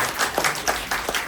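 Audience clapping at a live karate and Shorinji Kempo showcase, a short burst of applause with a few sharper claps standing out from the steady patter.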